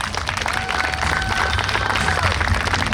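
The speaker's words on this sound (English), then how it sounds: "Let's start clapping for him." Crowd applause at a New York State Police canine and bomb disposal unit demonstration, steady dense clapping with some cheering over background music, loud and sustained throughout.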